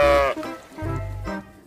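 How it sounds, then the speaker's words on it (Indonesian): A mother sheep bleats, two loud wavering calls close by with a short gap between them, one higher and one lower in pitch. "Wow, ini ada induk domba."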